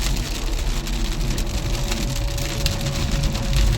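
Heavy rain drumming steadily on a car in Kuwait, a dense unbroken wash of noise with low road rumble beneath, loud and close throughout.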